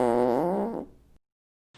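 A drawn-out, wavering fart, loud and close, rumbling for under a second before cutting to silence.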